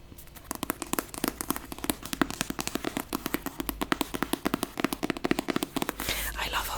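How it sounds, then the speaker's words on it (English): A book is handled up close, its pages and cover tapped in a quick, steady run of crisp, soft clicks and taps, quiet and intimate, with faint whispering underneath. "I love how this book sounds."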